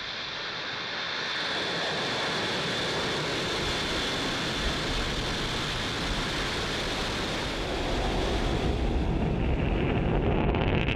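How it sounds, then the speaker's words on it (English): Thunderous, continuous roar of a SpaceX rocket at liftoff, a broad rushing rumble that swells and holds steady, heard from a distance with no voices. "Liftoff."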